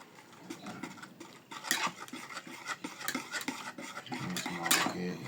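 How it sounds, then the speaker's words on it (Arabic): A spoon stirs chocolate into hot milk in a pot, clinking and scraping against the metal in an uneven repeated rhythm, close and fairly quiet. "دابا ناخد الشوكولا غادي ناخدها على الحليب ديالي باش نصاوب السقوه ديالي نخلطها مزيان"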